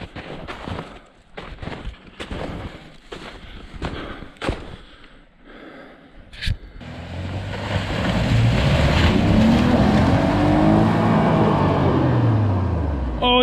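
A Chevrolet Colorado ZR2 pickup stuck in deep snow revs hard and holds a loud, rising engine roar as it strains to drive out, after a stretch of scraping and knocking sounds.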